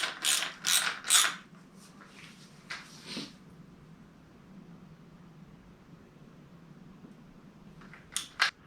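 Socket ratchet snugging a nut on a Fox 32 suspension fork, three quick close ratcheting bursts, then quieter clicks and faint handling noise before two more sharp ratchet clicks at the end.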